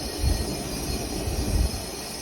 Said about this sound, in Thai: จะได้ยินเสียงแก๊สไหลเข้าไปครับ